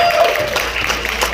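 A comedy club audience applauds and cheers in a steady, dense wash of clapping and crowd noise that holds for the whole short stretch.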